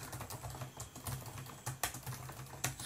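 Typing on a computer keyboard while entering text in Microsoft Word, a steady run of close, crisp key clicks with a few louder strokes standing out, no voices.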